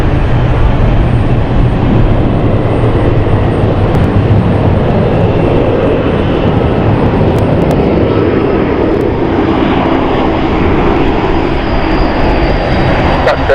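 A Dash 8 turboprop airliner lands at London City Airport, its engine and propeller roar loud, close and continuous throughout, with a broad rushing drone that shifts slightly in tone as it rolls out.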